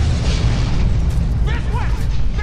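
A heavy booming explosion in the video game Dead Space 3 rolls out with dense low rumble, while a voice exclaims over it and debris noise lingers.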